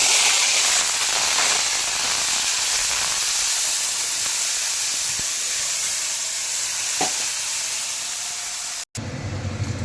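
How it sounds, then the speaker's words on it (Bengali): A ground paste of ginger, garlic, tomato and green chili hits hot oil in a kadai and sizzles loudly with a steady hissing spray, fading slightly before a short break and a quieter return. "তারপরে এবার আমি এটা কড়াইতে গরম তেলে দিয়ে দেবো"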